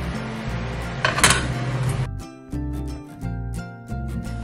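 Dissolved cornstarch poured into a saucepan of milk and stirred, with a scraping, pouring rush in the first two seconds giving way to repeated utensil clinks and knocks against the pan, close and fairly loud.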